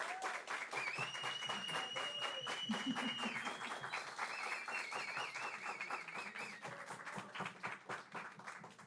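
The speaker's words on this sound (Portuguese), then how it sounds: "E pedir para todo mundo aqui uma salva de palmas para Tamires e Ailton da Amo Cocada." A small audience at a business talk clapping steadily, dense close applause that holds throughout, with a few cheers and whistles rising over the clapping.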